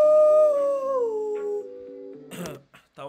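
A young man imitates a wolf howl with his voice, a loud, long wavering tone that slides slowly downward, then breaks into rough, noisy vocal bursts near the end.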